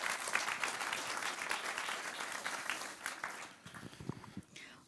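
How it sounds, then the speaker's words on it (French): Applause from a seminar audience at a negotiation breakout session, a fairly quiet, sustained patter of many hands that thins out near the end, with a voice starting to talk over the last moments. "je crois que vous pouvez l'applaudir sur ce résultat."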